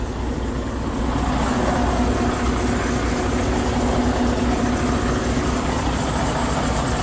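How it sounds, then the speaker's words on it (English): Truck engine idling steadily in winter, with its wet belt adding a squeal over the low rumble; continuous and close throughout, no talking. "You can hear the engine all squealing."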